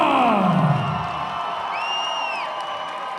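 Boxing event crowd at Pearl Gloves 2015 cheering and applauding as blue-corner boxer Dave "Grizzly Bear" Shaw is introduced in the ring, a steady roar of voices and claps with a whoop or whistle rising above it.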